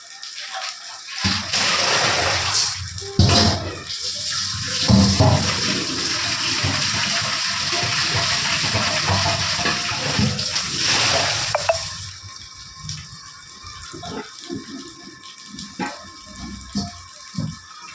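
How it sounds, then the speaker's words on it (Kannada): Water gushes and splashes steadily into a storage tank for about twelve seconds, loud and close, then cuts off, leaving faint drips and trickles. "ಡೈರೆಕ್ಟಾಗಿ ಮೇಲ್ಗಡೆ ನಮ್ಮ ಟ್ಯಾಂಕಿಗೂ ನೀರು ಬೀಳುತ್ತೆ"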